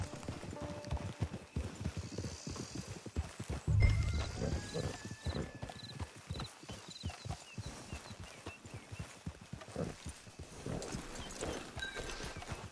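Horse hooves clip-clop at a steady walking pace in Red Dead Redemption 2, fairly close and soft, with faint game ambience and a brief low thump partway through.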